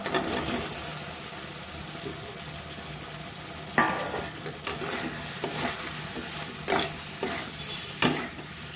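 Cauliflower florets stir-fried in a pan for a Bengali-style roast, with a constant sizzle under repeated scraping stirs that grow more frequent and louder in the second half.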